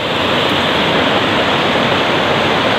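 Water pours down the Tili Ti Nuang waterfalls in a dense, constant roar that stays loud and unbroken from start to finish.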